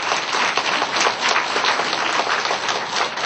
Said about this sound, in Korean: 박수 계속 치시네